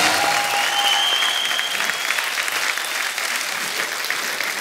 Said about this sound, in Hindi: एक बार जोरदार तालियां हो जाए चौबे साहब के लिए